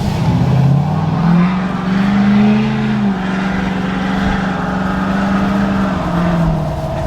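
A 6.7 Powerstroke diesel truck with a 5-inch straight pipe exhaust cruises along, its deep, steady engine drone holding a low rumble with slight pitch shifts, loud and continuous.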